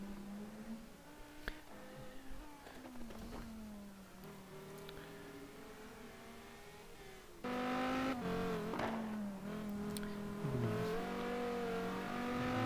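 A Viper GT1 race car on an onboard lap at Laguna Seca, its engine note climbing and dropping through gear changes, louder and harsher after braking into a corner, with faint tire squeal.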